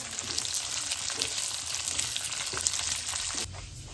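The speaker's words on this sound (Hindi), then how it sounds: "हाँ, देसी घी में भून रही है मामा दाल माश।" Urad dal roasts in desi ghee with a dense, even frying sizzle that holds steady for a few seconds and then drops off abruptly near the end, with no voices.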